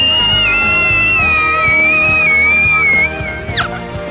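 A person lets out one long, very loud, sustained high-pitched scream that wavers and breaks off sharply near the end.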